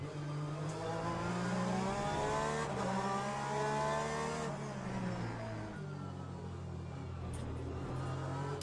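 Porsche race car in Le Mans Ultimate, a loud engine drone with rising and falling revs and gear changes, continuous through the corner, with a faint voice in the background.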